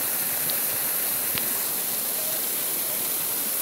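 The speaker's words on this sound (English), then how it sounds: "and up here at the waterfall" A waterfall in the woods on an overcast day, heard as a steady, loud, broadband rushing hiss that holds constant throughout with no talking.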